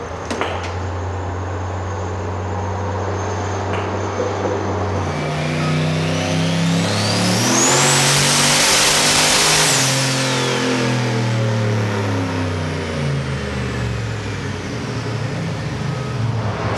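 Turbocharged LS 5.3 V8 in a Chevy Nova revving hard, loud and close, with the pitch climbing through a long sweep, peaking, then falling back, and a turbo whistle rising over the engine roar.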